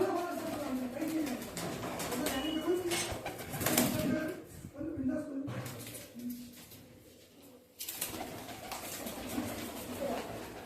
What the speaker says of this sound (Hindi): ये देखो भाई मलवाई पंजाबी कबूतर है।